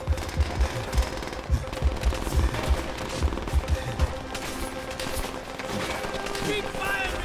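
Automatic gunfire in Call of Duty: World at War, rapid rhythmic bursts repeating through a dense game battle mix, with a voice talking over the shooting.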